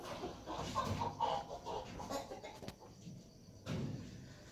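An injured Aseel rooster clucks softly in a few short, scattered bursts at close range, quiet against faint background rustling.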